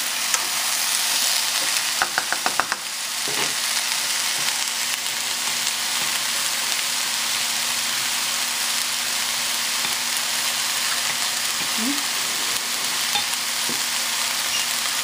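Fresh vegetables stir-frying in a pan, a dense steady sizzle lasting throughout, with a quick run of utensil clicks early on and a faint hum underneath.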